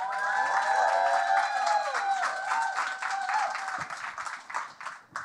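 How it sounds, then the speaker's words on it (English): An audience at a closing speech event breaks into applause, a dense patter of clapping mixed with some tonal sounds, fading somewhat toward the end. "So one more round of applause for Adi."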